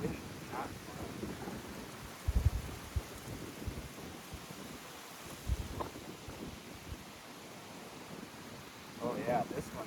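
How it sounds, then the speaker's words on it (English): Gusty wind buffets a microphone outdoors at a beehive during an inspection, giving a low, rumbling roar with a few sharp thumps from stronger gusts. "Boy, this wind is not fun."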